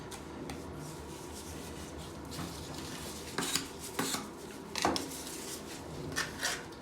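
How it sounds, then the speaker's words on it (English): A trowel spreads and shapes mortar for a walk-in shower floor: soft scraping and rubbing strokes, then several louder scrapes and taps near the end, close and fairly quiet. "So I'll just fill up that area and use my trowel to make the dip."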